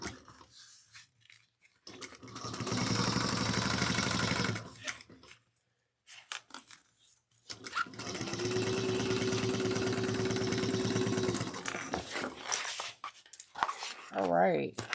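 A sewing machine stitches down the lining of a handheld bag in two long, steady whirring runs broken by a pause, close and fairly loud, with a short talk-like sound near the end.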